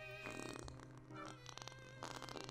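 A comedic fart sound effect plays as a run of sputtering, buzzy bursts in uneven pulses, fairly soft and with no talking.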